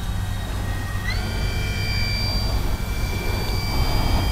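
An E-flite Beechcraft D-18 RC model twin-engine airplane makes a slow flyby, with a steady, continuous engine whine and a tone that shifts in pitch as it passes, loud and even throughout with no talk.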